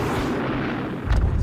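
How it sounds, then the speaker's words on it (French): A World War II anti-tank rocket launcher fires with a single sudden, loud, booming burst near the end, after a rumbling, noisy lead-in. "en créant une explosion dans ce tube, il est possible de toucher les chars situés à une 60aine de mètres en appuyant sur le bouton de tir"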